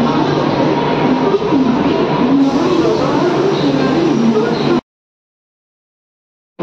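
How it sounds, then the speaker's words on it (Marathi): An air-conditioned local train rolls into a station on a Karjat-bound line, a loud close rumble of wheels and motor hum with rising tonal whine, then the sound cuts off abruptly into silence. "बघा ही AC ट्रेन आलेली आहे."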